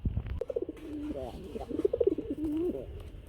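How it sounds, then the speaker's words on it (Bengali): A sky-blue Raj Golla pigeon with a white breast coos repeatedly at close range, its soft throaty calls rolling in quick bursts, with faint talk in the background. "এটা হচ্ছে রাজগোল্লা আকাশি কালার বুক সাদা রাজগোল্লা লট প্রচুর ডাকে"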